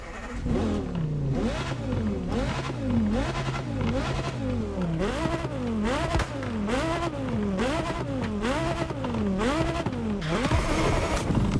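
An Ivory Tower Aezus GT engine in The Crew Motorfest starts and revs repeatedly, rising and falling in steady waves, loud and close with no talking.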